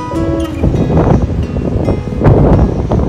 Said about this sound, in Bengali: হাওয়া দিচ্ছে, ঠান্ডা হাওয়া আর বৃষ্টি পড়ছে।